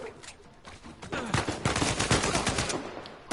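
Gunfire in the video game Uncharted 4, a dense run of rapid shots that starts quieter and then swells into loud, sustained bursts at close range.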